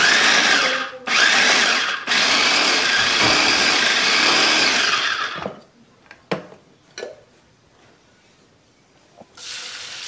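Electric food chopper grinding ingredients for a home-cooked meal gives a loud, steady whirring roar that cuts out briefly twice, then stops, leaving a few short knocks and rattles before the motor starts again.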